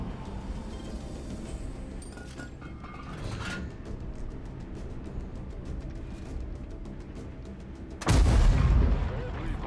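A loud, booming artillery blast in World of Tanks erupts near the end over steady game background noise and faint voices, its low rumble briefly dominating.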